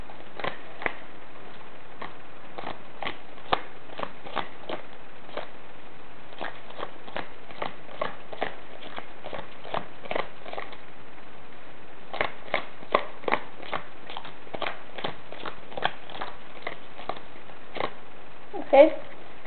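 Playing cards are shuffled in small piles at close range, a series of quiet, crisp riffling bursts repeating in an irregular rhythm with short pauses between them.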